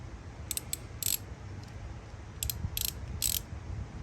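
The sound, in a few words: 3/8 ratchet wrench loosening bolt on Chevy Silverado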